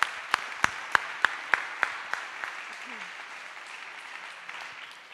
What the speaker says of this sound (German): dann klatschen wir jetzt einfach mal.